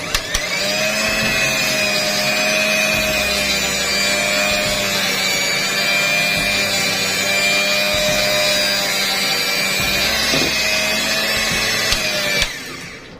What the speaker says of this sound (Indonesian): Lalu kita mixer lagi dengan kecepatan paling rendah ya.